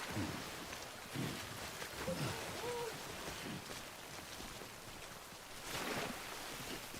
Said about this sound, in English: You can see the way all the rain is corrupting our stuff.